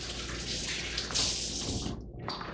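A quick rinse under a running tap, soft steady splashing water that briefly stops and then resumes, faint and close by.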